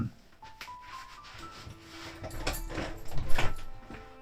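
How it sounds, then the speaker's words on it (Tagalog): A door is opened with rubbing, scraping and creaking sounds that build in loudness over a few seconds, with faint rattling like a latch or keys. "Buksan ko na yung pinto."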